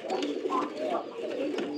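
Pigeons coo in soft, repeated low throbbing calls that overlap one another at close range.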